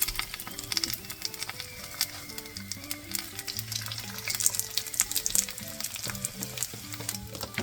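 Keto English muffins fry in a pan with a steady, close sizzle and crackle and scattered sharp pops, with no talking over it.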